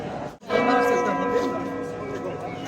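Church bells ringing at noon across Kraków's old town, a dense, resonant peal of several bells sounding together, loud and sustained after a brief pause, with faint street ambience beneath.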